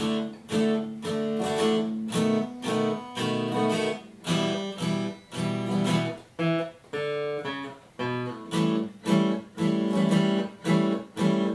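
Guitar plays a repeating bass-line riff in short plucked phrases with brief gaps between them, clear and close, with no voices.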